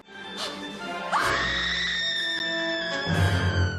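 Woman screaming in the film Indiana Jones and the Temple of Doom, a shrill, sustained scream set against loud music and action noise.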